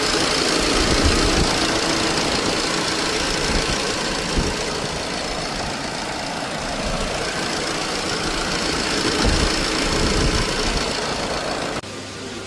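An Opel Corsa D engine runs hot with a faulty alternator pulley, making a loud, steady mechanical drone and rattle close to the engine bay that continues unbroken for several seconds before briefly dropping off.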